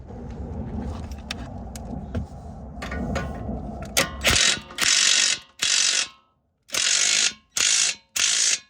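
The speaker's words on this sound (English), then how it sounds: "Half-inch ratchet." Half-inch ratchet clicking on a boat, with loud bursts of rapid ratcheting in the second half after a stretch of lower mechanical rumble, repeated in several short strokes with brief pauses between them.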